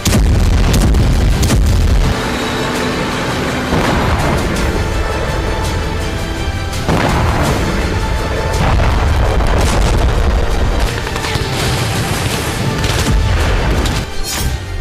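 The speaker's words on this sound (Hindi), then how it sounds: "वोलोदर रूसी फौज की आर्टिलरी प्रहार से जल रहा है" Russian artillery strikes hit Vuhledar in heavy, continuous booms and blasts. The sound is loud, dense and rumbling, with repeated explosive bursts and no talk.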